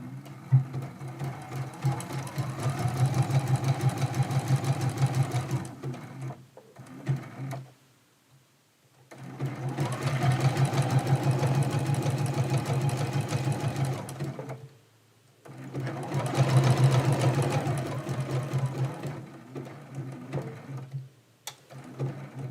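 Sewing machine zigzag stitching around a raw-edge applique on a quilt, fitted with a very small needle, running in three long steady stretches separated by short pauses, loud and close.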